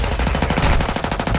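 Rapid automatic gunfire from a TAQ-56 rifle in Modern Warfare 2, a loud close burst of evenly spaced shots filling the whole moment.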